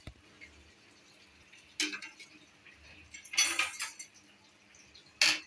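Kitchen pot of leftover ghugni, a pea curry, set on the stove to reheat: a few sharp metallic clinks and scrapes of pot and utensils against a quiet background, with no talk.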